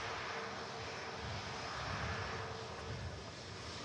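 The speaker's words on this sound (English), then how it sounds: "Ryanair now pushing back for Rome, Max 8200." Jet airliners pushing back on the apron at Manchester Airport, including a Ryanair Boeing 737 MAX 8200, give a steady, moderately distant engine roar and whine that holds evenly throughout with no talk.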